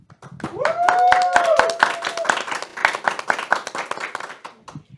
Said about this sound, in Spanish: recibimos esta nueva emisión con un fuerte aplauso